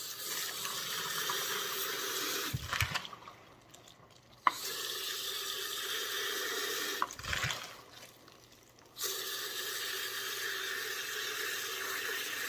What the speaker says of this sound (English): before I rinse them, like right now, I'd added extra water and some dish soap, a few drops of dish soap